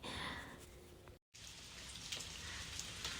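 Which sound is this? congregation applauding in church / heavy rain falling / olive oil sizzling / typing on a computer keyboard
heavy rain falling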